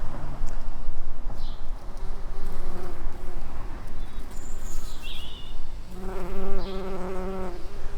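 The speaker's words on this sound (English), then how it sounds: "It's late in the day and the bees are still there." Bees buzz steadily and close by around sedum flowers in an English garden in late-day September, with a few faint bird chirps in the background.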